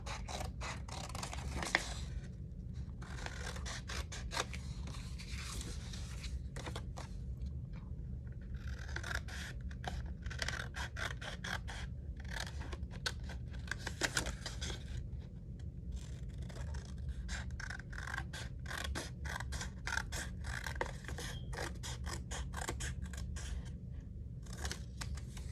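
Scissors cutting paper for a mini journal, long stretches of crisp rapid snipping and slicing strokes close by, continuous and fairly even, with brief pauses between cuts.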